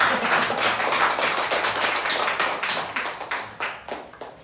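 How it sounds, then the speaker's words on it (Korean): Audience members at a beginner stock-investing lecture clap for volunteers coming forward, a dense burst of hands that starts loud and thins out into a few scattered, separate claps by the end. "우리 박수 쳐줄까요?"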